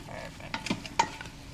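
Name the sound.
meat browning on saute in an Instant Pot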